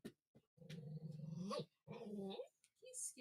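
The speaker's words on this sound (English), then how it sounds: "Bark, bark." A dog growls and whimpers up close in a series of drawn-out grumbling vocalizations separated by short pauses.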